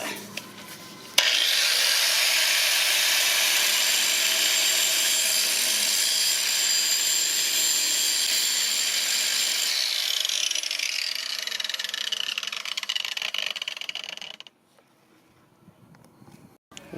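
A power grinder cuts into the rear strut of a 2004 Mitsubishi Endeavor, a loud, steady high-pitched whine that holds for about thirteen seconds, then drops off abruptly into quiet.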